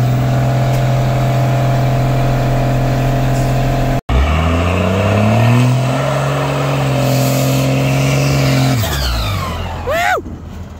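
First-generation 12-valve Cummins diesel in a four-wheel-drive truck idling with a loud, steady clattering drone, briefly cut off, then rising in pitch as it revs and dropping back, ending with a short rising squeal.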